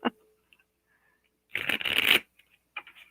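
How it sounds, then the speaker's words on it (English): Tarot cards are shuffled close up in one quick riffling burst of about a second, with a few softer card taps before and after in otherwise quiet surroundings. "Gotta shuffle these cards again."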